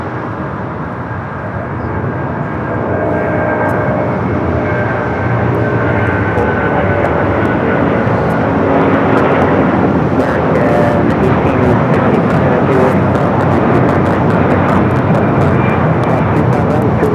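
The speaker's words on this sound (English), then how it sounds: "Taking off to Honolulu on the A330-200" An Airbus A330-200 jet takes off from Los Angeles International bound for Honolulu, its engine roar building from a quieter start into a loud sustained rumble, with voices talking over it and scattered sharp clicks.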